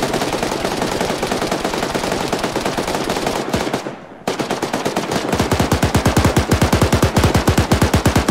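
Sustained automatic gunfire in the video game Arma 3: long, loud, rapid bursts with a brief pause, then a steady rhythmic stream of shots, close and with no talk.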